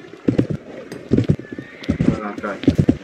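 Horses in the Western game Westbound clip-clop in rapid galloping beats with whinnies rising between them, close and loud, while a voice speaks briefly over the hooves.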